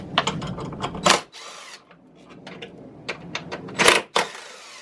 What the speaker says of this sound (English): Once that's loose, we need to remove the 2 10mm bolts.